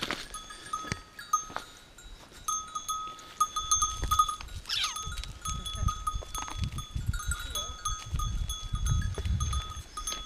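Goat wearing a cowbell on a rocky mountain route in Crete, the bell clanking in irregular, fairly close jingles over wind and rustle.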